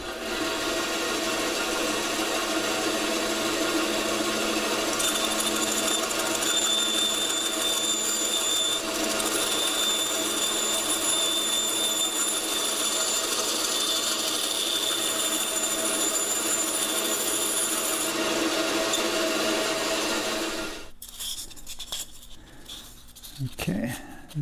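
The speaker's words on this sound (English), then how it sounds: "If you happen to have a bandsaw, it is a perfect tool for cutting foam." A bandsaw cuts through foam with a continuous loud broadband whirring hiss lasting about twenty seconds, then runs down, leaving quieter handling noises at the end.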